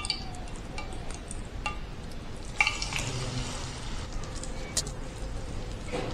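Marinated noodles frying in hot oil in a pan, a steady soft crackling sizzle throughout with a few faint clinks, no voices.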